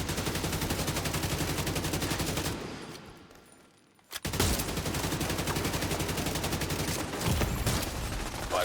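Sustained gunfire from a sniper turret in a video game, a dense loud barrage that cuts out briefly, then resumes at full intensity and continues steadily to the end.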